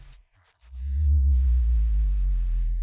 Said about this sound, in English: A nice 808 sound does a sweep like this.